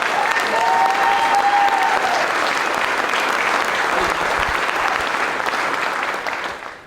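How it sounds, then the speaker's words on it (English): Loud, sustained applause from a dinner audience honoring the TGFC committee members at the Billfish Challenge event, dense steady clapping with a brief whistle or cheer early on, fading out at the end. "Let's give them a giant round of applause."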